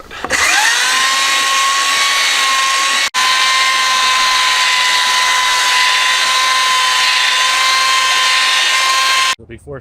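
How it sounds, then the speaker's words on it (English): A power sander works on pallet wood with a loud, steady high-pitched whir that starts abruptly, cuts out for an instant around three seconds, resumes and then stops near the end, with no speech. "Different sander, even though it's the same exact sander,"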